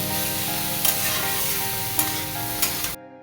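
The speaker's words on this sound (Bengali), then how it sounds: "এটাকে জাস্ট মানে আস্তে আস্তে ভাজা করলে সুন্দর একটা ভাজা হয়ে যাবে" Potato and aubergine frying slowly in a covered pan with sun-dried lentil dumplings, a continuous even sizzle with a few sharp spits and pops, cutting off abruptly near the end.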